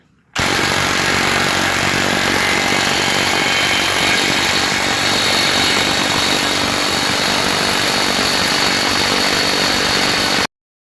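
A Masterforce 20V 1/2-inch cordless impact wrench drives a bolt into a bearing press to push out a bearing, hammering loudly and continuously for about ten seconds before cutting off abruptly.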